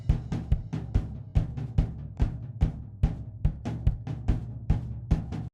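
Kick drum captured by a cheap Pronomics condenser mic outside the drum, regular booming hits with a roomier ring and other drum shells bleeding in, steady and close throughout.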